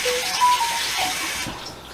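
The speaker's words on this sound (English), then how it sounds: "Rinse with cold water." Cold tap water running over a bunch of fresh chives in a kitchen sink, a close, steady splashing rush that softens and thins toward the end.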